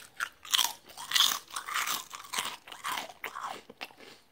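Rippled onion and parsley potato chips crunched close to the microphone, with loud repeated bites and chewing crunches coming in uneven bursts.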